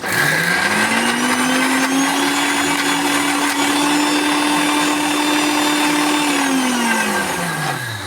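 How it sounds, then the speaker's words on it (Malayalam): A loud mixer grinder grinding cooked rice into a paste whirs up to a steady high-pitched whine, runs evenly for several seconds, then winds down, with no voices. "അത് ഒരു മിക്സിയുടെ ജാറിലേക്ക് ഇട്ട് കൊടുക്കുന്നുണ്ട്"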